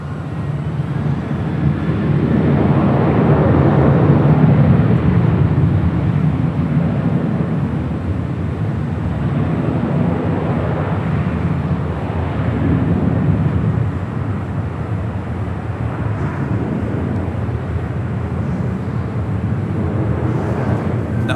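A sports charter plane at Los Angeles International Airport, heard as a steady, loud, broad jet roar that swells and eases over about twenty seconds, alone without talk.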